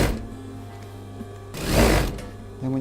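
A sewing machine stitches along the folded edge of a man's shirt being made into a sun cape, with short whirring bursts of needle action separated by brief pauses.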